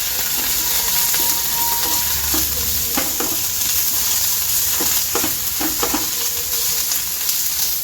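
Ginger garlic paste frying in a pan for cauliflower curry: a loud, continuous sizzle up close, with the clatter of a utensil stirring and scraping at intervals.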